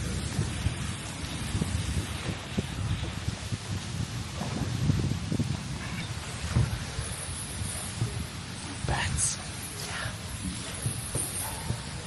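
Heavy rain pours down during a bamboo boat trip in Ha Long Bay, with dense drumming on water and surfaces, rumbles of thunder and occasional splashes. Close, steady and loud, with scattered faint voices.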